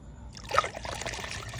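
Grape juice is poured into a glass to mix with gin, a short close trickle and splash of liquid that starts abruptly and keeps up at a steady level.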